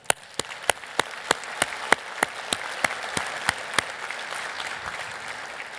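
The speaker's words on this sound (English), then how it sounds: "How about a round of applause for all of you?" A small audience gives a round of applause, sharp separate claps landing in a steady rhythm about three per second, loud and close at first, then fading into a softer scattered patter.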